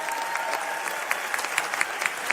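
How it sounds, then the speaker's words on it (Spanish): An audience at a recognition ceremony applauds steadily, a dense, even wash of many hands clapping with a few sharper claps standing out near the end. "un aplauso"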